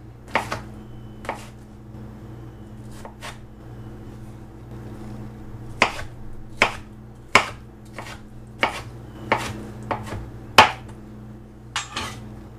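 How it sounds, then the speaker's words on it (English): Knife strokes on a cutting board slicing a vegetable into long slivers and then mincing it crosswise: about a dozen sharp, separate chops, irregularly spaced, close and fairly loud over a low steady background hum. "Long slivers, and then crosswise, we make a nice little mince."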